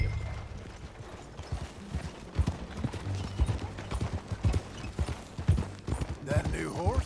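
Horse hooves gallop in Red Dead Redemption 2, a steady rhythmic clip-clop of a mounted ride with game ambience, while voices talk over the hoofbeats throughout.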